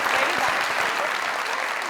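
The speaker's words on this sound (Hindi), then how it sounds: "जरा तालियां" Studio audience applause on a Pakistani comedy talk show, a dense, steady wash of many hands clapping that stays loud and close throughout, with no pause or rhythm breaking through.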